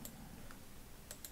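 A few crisp computer keyboard key presses come as sharp, brief clicks, one early, one near the middle and a close pair near the end, over a low steady room hum with no talk.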